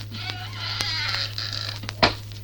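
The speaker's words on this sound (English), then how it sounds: "Let's close the door." A door creaks slowly shut in a home, a drawn-out groaning squeak under a steady low hum, finished by a sharp thud near the end.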